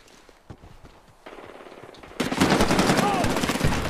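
Rapid machine gun fire in the video game Medal of Honor Warfighter, multiplayer match, bursting in loud and dense after quieter scattered shots, continuous rattling bursts close up.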